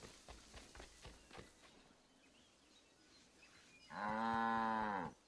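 A cow moos once, loud and close, in the Assassin's Creed III video game. The moo follows a few seconds of quiet outdoor game ambience with faint footsteps.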